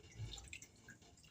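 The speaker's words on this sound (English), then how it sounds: "So I'm letting out all the water, right? All the salt water" Salt water drains off mango pieces being prepared for mango chow, heard as a few soft close drips and trickles, faint and brief with no talk.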